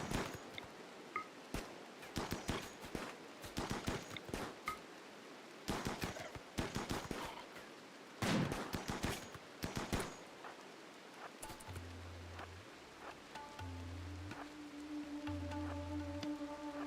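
Assault rifles fire in a video game, with rapid bursts of automatic gunfire crackling repeatedly through the first ten seconds before giving way to softer electronic game tones.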